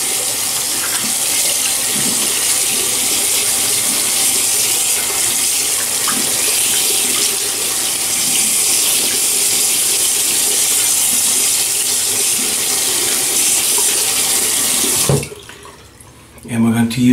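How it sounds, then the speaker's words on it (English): Tap water runs steadily and loudly into a sink while a man wets his face before a shave with a Razor Rock 37 Slant safety razor, then the flow cuts off abruptly near the end. "now we need to hydrate my beard. So we're gonna wet the face."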